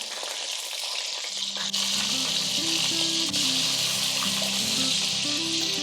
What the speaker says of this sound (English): Time to add the last 6 balls.